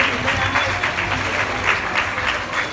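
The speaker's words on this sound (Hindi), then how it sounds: "इनके लिए जोरदार तालियां बजाएंगे।" A crowd at a Shrimad Bhagavat katha gathering claps loudly and continuously, a dense, even wash of applause with no break.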